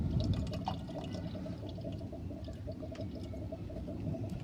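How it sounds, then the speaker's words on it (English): Yeast sludge pours from the bottom tap of a Grainfather conical fermenter during an ESB brew, a steady continuous liquid gush at close range, with no voices over it. "That's all the sort of shitty stuff from the bottom of the fermenter. So that's the yeast dump."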